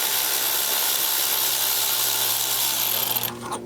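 Milwaukee power tool spinning off 10 mm brake caliper bolts on a 2004-2008 Ford F150, a loud, close continuous buzzing whir for about three seconds that cuts off abruptly at the end, no talking.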